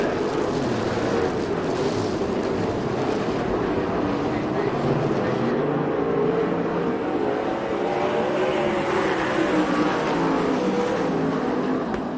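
Several USAC/CRA sprint cars race at Manzanita Speedway, a dense, continuous engine roar that stays loud for the whole stretch with no gaps.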